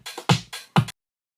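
A short EDM drum loop of kick, hi-hats, closed hats and snares plays alone, two heavy kick-and-snare hits interleaved with brighter hat strikes, then stopping abruptly.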